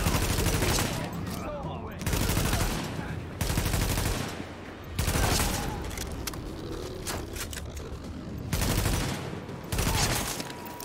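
Gunfire in The Division video game, loud bursts of rifle shots in clustered volleys with short pauses between, separated by quieter stretches of ambient game sound.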